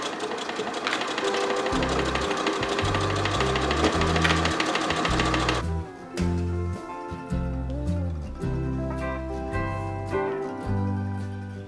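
Sewing machine stitching a handmade quilted jacket, a loud close rhythmic run of needle strokes that pauses and restarts in short bursts partway through, with no talk.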